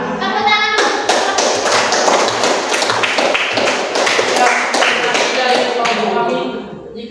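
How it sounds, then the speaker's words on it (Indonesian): Classroom clapping from a group of pupils at the end of a science lesson, a dense run of hand claps sustained for about seven seconds at fairly loud level, with a few voices mixed in. "Tepuk tangan dulu."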